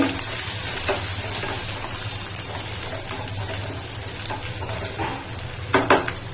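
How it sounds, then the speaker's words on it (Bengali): Garlic and onion fry with cumin and garam masala in hot oil, a steady close sizzle running throughout with occasional stirring scrapes and clinks near the end. "ফোড়ন দিয়ে জিরা আর গরম মশলা ফোড়ন দিয়ে রসুন পেঁয়াজ দিয়ে দিয়েছি"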